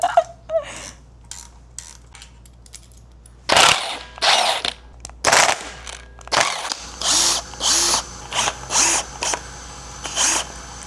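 A power tool on a Toyota Supra engine backing off bolts in short whirring, ratcheting bursts, a few at first and then a quick run of repeated pulses, close and loud with brief pauses between.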